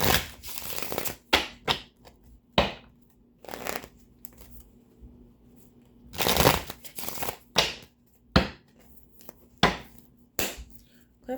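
Repeated bursts of tarot cards being shuffled, close and crisp, each riffle lasting a second or so with short pauses between.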